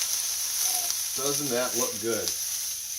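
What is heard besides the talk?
peppers sizzling while frying in a pan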